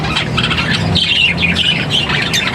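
Several birds squawk and squeal nearby in harsh overlapping calls, continuous and fairly loud, with no voices.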